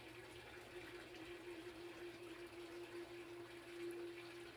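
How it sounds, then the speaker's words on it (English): A slow, air-locked 3/4 horsepower sump pump cycling, giving a faint steady hum with a low droning vibration beneath running water, distant and continuous, with no voices. "you hear that strange vibration that just happened. That happens every time it cycles"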